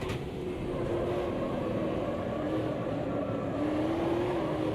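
Continuous roaring engine of a historic touring race car in a sim racing game, revving and whining steadily while the wheels spin, close and loud with slight pitch rises; no talk.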